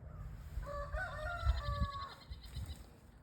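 Chickens in a backyard garden with a rooster crowing clearly in the middle of the clip over low outdoor rumble and handling noise, with faint clucking around it.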